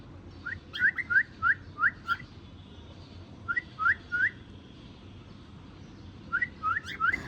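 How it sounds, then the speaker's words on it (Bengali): Bright, rising whistles from birds in short bursts of two to five notes, separated by pauses, close by over a low background hum. "আমাদের এই পাখিগুলো কি সুন্দরভাবে ডাকে"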